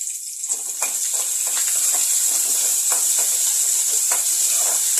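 Curry leaves fry in hot oil in a home kitchen with a steady, bright sizzle and hiss, broken by scattered crackling pops throughout.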